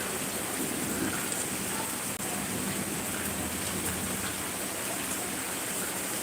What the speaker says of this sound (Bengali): প্রচুর করে আসছে বৃষ্টি হচ্ছে